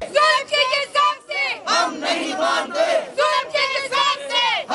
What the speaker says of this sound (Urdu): نون لیگی کارکنان شہباز شریف کے حق میں نعرے بازی کرتے رہے